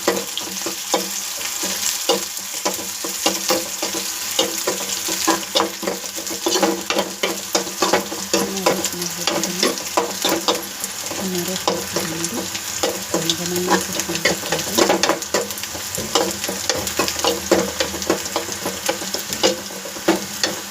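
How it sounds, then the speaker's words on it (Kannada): Ginger and coriander leaves roasting in a pan for a village-style sprouted-bean curry, a loud continuous sizzle with constant scraping and stirring strokes of a spoon against the pan. "ಅದನ್ನು ಸ್ವಲ್ಪ ಚೆನ್ನಾಗಿ ರೋಸ್ಟ್ ಮಾಡಿ ಕೊತ್ತಂಬರಿ ಸೊಪ್ಪನ್ನು ಹಾಕ್ತಾಯಿದ್ದೀನಿ."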